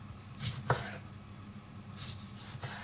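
A knife chopping eggplants into quarters on a board, a few distinct close cuts spaced apart, with a sharper knock near the start and lighter strokes toward the end, no voices.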